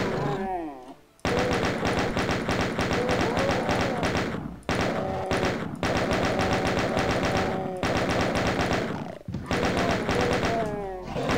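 Sustained rapid-fire chain gun bursts in the Doom first-person shooter, loud and continuous with brief pauses between volleys, mixed with game effects and occasional monster growls.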